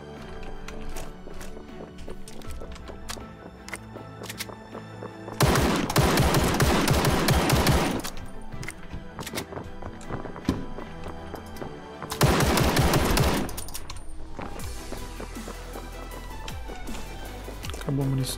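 Automatic gunfire in the battle royale video game Ring of Elysium, two loud rapid bursts of several seconds each standing out over game ambience and clicks, with a player talking in between.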